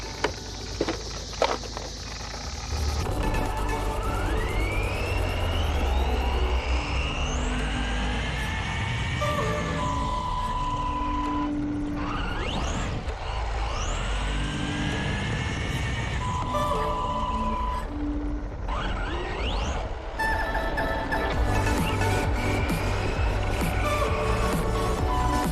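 An Arrma Vorteks RC truck making a full-throttle speed pass outdoors, its electric motor whining up and down in pitch as it accelerates, passes and turns, loud and continuous for most of the run with no talking.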